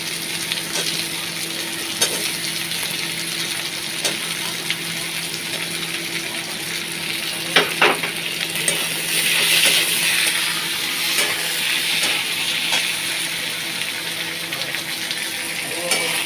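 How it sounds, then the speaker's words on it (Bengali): Chunks of potato and taro fry in an oiled pan, a steady soft sizzle with occasional scraping stirs and faint clinks throughout. "আলু আর কচুর মধ্যে আমি একসাথেই দিয়ে দেবো, দিয়ে এগুলো একটু ভাজা ভাজা করে নেবো"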